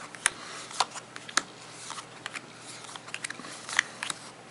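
Luck & Logic gate cards shuffled by hand, a run of light crisp clicks and snaps with a few sharper flicks, close and fairly quiet, without talking.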